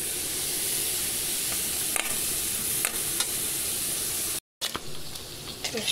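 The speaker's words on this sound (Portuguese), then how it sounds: "Nossa abobrinha ainda tá aqui no fogo." Zucchini sizzles steadily in a pan on the stove, a continuous close frying hiss with occasional stirring clinks and a brief dropout near the end.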